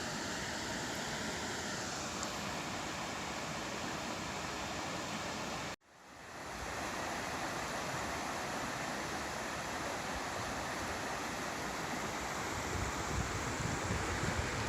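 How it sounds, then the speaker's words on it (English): Steady broadband roar of a waterfall in the Kawartha Highlands, loud and constant, cut by a brief dropout near the middle before the rush resumes unchanged. "Now let's go take a look at the actual waterfall."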